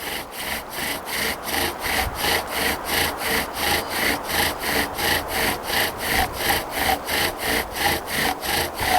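A bow drill spins steadily against a wood log in a keyhole friction-fire setup, giving a close, loud rhythmic sawing rasp that rises and falls with each back-and-forth stroke, about two strokes per second, continuous throughout.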